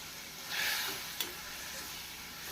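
Tomatoes sautéing in a pan over raised heat for a spicy tomato chutney give a faint, steady hissing sizzle that swells briefly, with a single small tap of a utensil.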